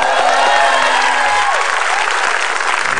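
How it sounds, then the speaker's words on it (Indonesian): Loud, close applause from a TV studio audience at a game show, thick continuous clapping mixed with crowd noise and a few whistling tones, sustained across the whole stretch. "Tepuk tangan!"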